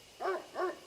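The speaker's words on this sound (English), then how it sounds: "I can hear a dog howl from nearby." A dog howls nearby in the Death Mark horror video game, two short mournful wavering cries in quick succession with no talking.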